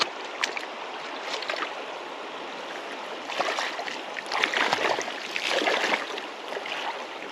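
A village river flows steadily, its broadband rush and gurgle swelling in places and staying moderately near, with no voices over it.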